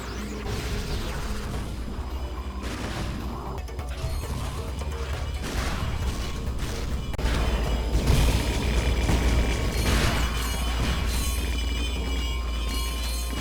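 The Bouncer weapon firing in Ratchet and Clank: Going Commando on PS2, a dense run of mechanical clanks, bouncing thumps and crashing booms, loud and continuous with no talk.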